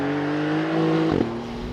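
A 2022 Porsche 911 GTS Cabriolet engine droning close by, then blipping sharply on a downshift, a quick rise-and-fall rev before settling back to a steady hum.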